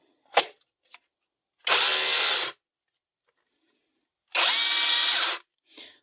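A cordless rotary hammer, either an Einhell Herocco or an AliExpress model, drills in two separate loud bursts of about a second each. Quiet gaps and a few small clicks surround the bursts.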